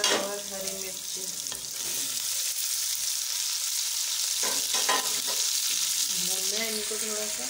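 Tomatoes and green chilies frying in oil in a pot for chicken chana pulao, a loud steady sizzle with stirring scrapes and a few soft clinks.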